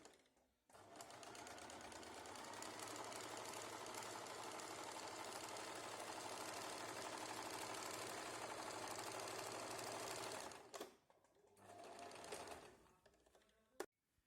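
A sewing machine stitches a pocket in one long, even, close run of rapid mechanical whirring that stops abruptly near the end and gives way to a short burst of stitching, with no voices.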